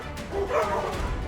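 Cartoon dogs bark and yip in a short, close burst of several overlapping calls, with no talking.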